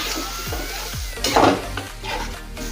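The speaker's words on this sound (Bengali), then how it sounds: "এখানে আমি অল্প করে গরম জল দিয়ে মশলাটা কষিয়ে নেবো" Hot water splashes into masala frying in a wok for chicken kosha, bursting into a loud hiss midway, with spoon scrapes and clinks of stirring close by and no talk.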